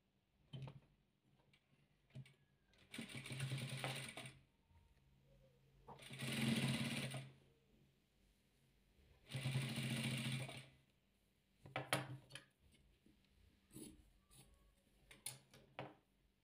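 A sewing machine stitches velour patchwork in three distinct runs of a few seconds each, separated by quiet pauses with small clicks and handling sounds.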